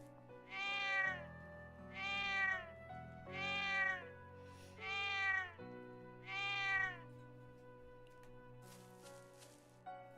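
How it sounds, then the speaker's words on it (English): Five distinct cat meows, evenly spaced and fairly loud, ring out over quiet background music in the video game Trails of Cold Steel II. "That's 5 big meows for Celtic."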